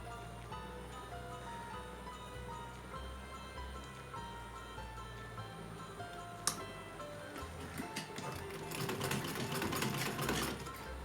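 A sewing machine stitches along the edge of a small dress for a Laddu Gopal idol, running in a fast, steady mechanical patter. It is close and continuous, with a sharp click partway through and busier rattling near the end.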